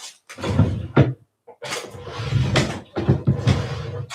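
Rummaging through a drawer of polymer clay cutters, with clattering knocks and scraping bursts close by, broken by short pauses.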